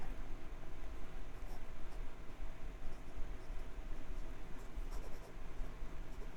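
A Wing Sung 601 fountain pen with a fine steel mini fude nib scratches steadily across paper, a close, quiet, continuous rasp with small ticks from the strokes and no voice.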